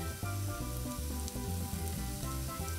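Minced garlic sizzles steadily on a hot Blackstone griddle, a continuous bright crackle running alone over a low humming background.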